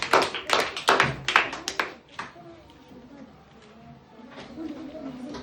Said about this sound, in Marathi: सर्वांनी टाळ्या द्या अक्षरासाठी. जोरदार टाळ्या होऊ दे.